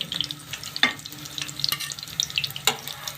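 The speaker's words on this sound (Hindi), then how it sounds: "ये वाले निकाल के फिर दूसरे डाल देंगे फ्राई करने के लिए।" Chicken kababs fry in a pan with a soft, steady sizzle, while sharp scraping and clicking sounds come at irregular intervals as pieces are lifted out, close by with no voices.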